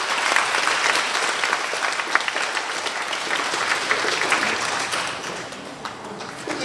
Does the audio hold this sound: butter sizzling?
no